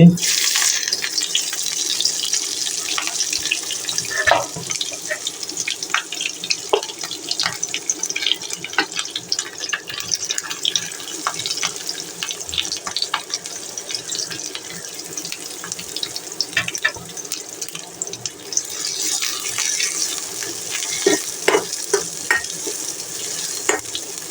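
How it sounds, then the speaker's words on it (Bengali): Chopped onion sizzling steadily in hot oil in a pan where taki fish was just fried, a continuous hiss with occasional stirring clicks, close and fairly loud throughout with no talk. "এবারে তেলের মধ্যে দিয়ে দেব পেঁয়াজ কুচি"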